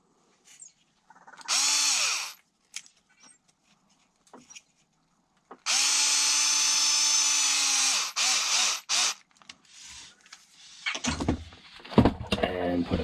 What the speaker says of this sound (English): and then reinstall the screw